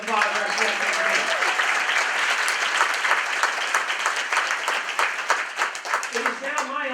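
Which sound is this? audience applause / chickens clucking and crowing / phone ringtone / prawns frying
audience applause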